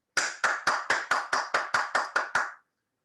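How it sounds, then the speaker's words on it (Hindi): Ten crisp, evenly spaced claps ring out alone in a quick, regular rhythm, then stop abruptly, like a uniform applause effect in a women's special webinar as a guest is welcomed. "तो आपकी जोरदार तालियों के बीच में हम इनवाइट करना चाहते हैं हरदोई से शिवांगी मिश्रा"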